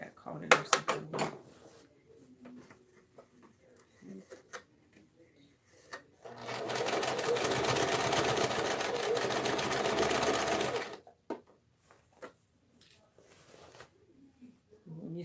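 Sewing machine stitching a tote bag: a steady mechanical whir runs for about four seconds in the middle, with scattered handling clicks and rustles before and after.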